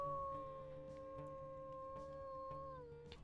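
A single long wolf howl from the WolfQuest video game, a clear sustained tone that glides slightly downward at the end, heard softly with light background noise.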